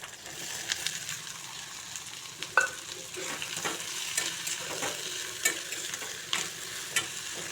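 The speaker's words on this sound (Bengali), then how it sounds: "দেখুন এতে বেগুনগুলো দিয়ে দিচ্ছি।" Eggplant pieces frying in spiced masala with small mola fish, a steady close sizzle with repeated clicks and scrapes of a spatula stirring the pan; no voices.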